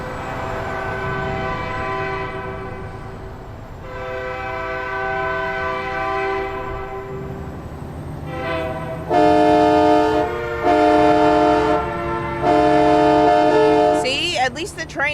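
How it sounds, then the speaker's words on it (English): A steady rumble with a long sustained horn, followed by several loud, drawn-out train horn blasts in a rhythmic sequence, in American Truck Simulator. "At least the train honks back."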